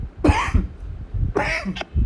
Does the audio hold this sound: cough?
yes